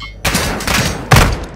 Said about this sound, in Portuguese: Atirando em mim.